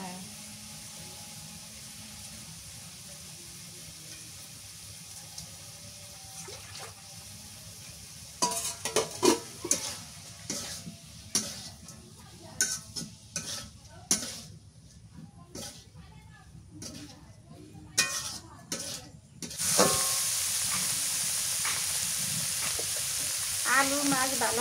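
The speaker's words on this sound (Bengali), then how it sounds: "আলু মাছ ভালোভাবে কষানো করে নিলাম" Potatoes and small shrimp sautéing in a pan with drumstick greens, a low sizzle under talk, then a run of sharp scraping and stirring knocks, ending in louder sustained frying.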